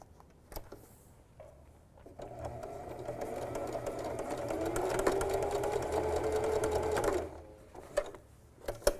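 A sewing machine sews a tiny dart on the felt ear of a little mouse ornament, a soft whirring run of stitching lasting several seconds, with light clicks before and after.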